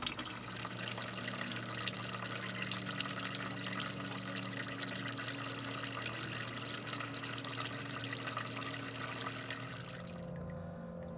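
Coolant drains from a car radiator as a faint, steady trickle and patter of dripping liquid that runs for about ten seconds and then stops, leaving quiet.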